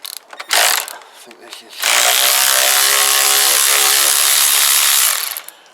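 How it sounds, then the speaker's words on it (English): A cordless electric ratchet works on the front end of a Kawasaki BN125 Eliminator motorcycle. It gives a short burst, pauses, then runs in one long, steady, loud whir for about three seconds, with a brief voice near the start. "really do need to charge this ratchet because it's flat as fluck"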